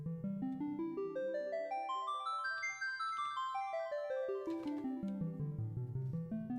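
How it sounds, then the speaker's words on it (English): Final Fantasy VII Prelude from the video game soundtrack, rising and falling harp-like arpeggios sweeping up and down over a low sustained bass, steady and moderately loud with no talking. "FF7's Prelude, which should be on this playlist, sounds like this."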